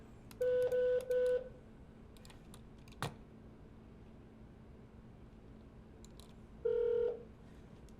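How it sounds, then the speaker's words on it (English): Desk phone dialing extension 2000 on a Cisco call-center setup: four short keypad tones in a quick run, then a quiet pause with one click, and a longer tone near the end, all close and clear. "So from this phone, I'm going to dial 2000."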